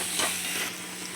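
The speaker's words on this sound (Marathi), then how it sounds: "मसाले कांदा वगैरे सगळं छान असं परतलं" Onion and spices for pav bhaji fry in a pan with a steady, close sizzle and crackle, plus faint stirring. No voices are heard.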